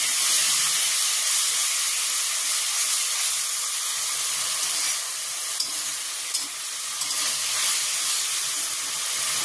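Water poured into a pan of frying spices for a meat and potato curry sets off a loud, continuous steam hiss and sizzle, close up and steady, with a few small clicks near the end; no talking.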